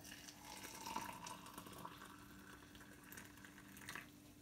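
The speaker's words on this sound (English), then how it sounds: "we're just gonna pour some hot water on that one" Hot water pours steadily into a glass, a soft continuous trickle and splash that stays faint and close, with no voices.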